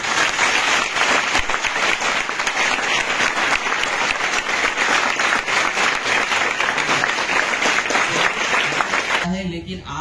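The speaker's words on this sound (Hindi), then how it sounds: "तो वो भी जोर से तालियां" Loud, dense applause from a crowd at an SSC GD exam coaching session, continuous vigorous clapping that stays strong for nearly ten seconds before cutting off abruptly.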